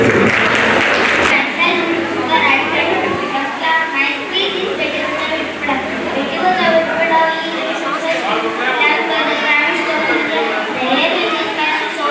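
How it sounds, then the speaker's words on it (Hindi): At a school function, the audience gives a long round of hearty applause for young dance performers. The clapping is loud and continuous, with the chatter of the crowd mixed in and some voices heard over the noise. "उनके लिए जोरदार तालियां आप सबकी तरफ से"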